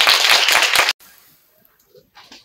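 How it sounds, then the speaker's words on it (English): Audience clapping for someone speaker being welcomed at a research methods talk, a loud burst of applause that stops abruptly, followed by near silence with faint rustles. "big claps and welcome her"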